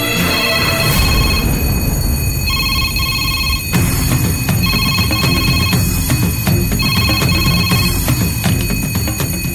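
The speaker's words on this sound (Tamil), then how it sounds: "பெல் ரிங்கா ஒரு சத்தம் கேக்குது." An electric bell rings insistently for nearly ten seconds, a loud shrill metallic trill with brief pauses, set off unexpectedly by an electrical fault.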